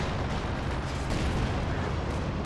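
A strafing run attack in Company of Heroes rains down as a dense, continuous roar of rapid gunfire and explosive bursts, loud and unbroken throughout.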